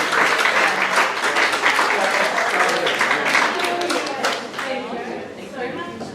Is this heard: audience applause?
yes